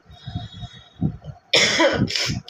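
A person with a bad cold lets out a burst of rough, chesty coughing after some quieter throaty sounds, close and loud.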